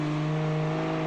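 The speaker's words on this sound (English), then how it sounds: "as you can hear from it banging off the rev limiter and that loud engine" A car engine in the racing game Automation holds a steady, droning tone at high revs, sitting loud and close against the rev limiter for the whole moment with no voices.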